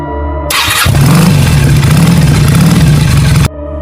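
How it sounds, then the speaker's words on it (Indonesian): A motorcycle engine cranks with a brief starter whir, then catches and settles into a loud, steady idle, close by, before cutting off abruptly. "mesin langsung hidup."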